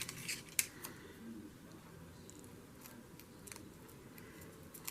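Scissors snip through sticker paper at a craft table, the blades sticking to the adhesive, with a few sharp close clicks early on and then soft scraping and handling.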